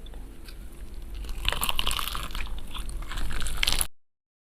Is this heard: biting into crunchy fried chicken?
yes